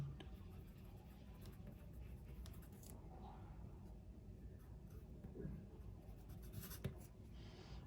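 A pen writes on a bank cheque, filling in a 10,000 taka amount in words, with steady soft scratching strokes running throughout at close range.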